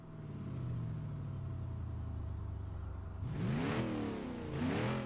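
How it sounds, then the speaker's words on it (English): A car engine in Forza Horizon 3 drones at a steady idle, then is revved in two rising and falling bursts that climb toward the red line, loud and close with no talking. "Let's rev it up some more."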